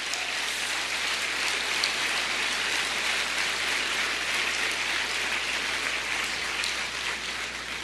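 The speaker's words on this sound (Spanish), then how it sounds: "Dele un aplauso al Señor." A church congregation claps during a Spanish-language sermon, a steady, even wash of applause heard from a moderate distance with no talk over it.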